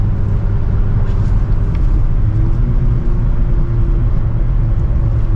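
A sports car with an aftermarket exhaust drives through turns, its engine and exhaust giving a steady, loud, dense rumble with no pauses.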